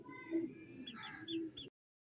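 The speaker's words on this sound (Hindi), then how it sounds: "दो मुर्गी और एक मुर्गा।" Two hens and a rooster cluck and coo softly, with a few short calls and brief chirps. The sound is close and fairly quiet, and it cuts off abruptly.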